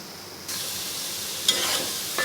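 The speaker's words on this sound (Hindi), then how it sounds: "चलिए इसे हाई फ्लेम पे भूनते हैं।" Cholai saag (amaranth greens) fried on high flame in a pan, giving a steady close sizzle with a stir or scrape around the midpoint and another near the end, with no talking.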